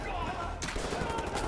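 A short, loud burst of gunfire in the Wolfenstein: The New Order video game, a sharp crack over dense action noise, with a voice speaking over it.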